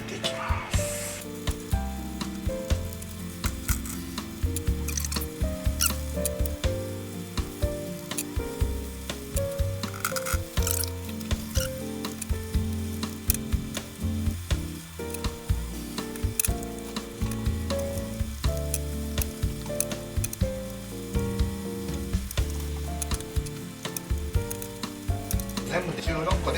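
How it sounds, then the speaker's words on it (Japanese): Minced meatballs frying over lowered heat in oil in a pan, a steady dense sizzle with crackling pops running continuously throughout at close range, no talking. "油を敷いて、 火を弱めて 焼いていきます。"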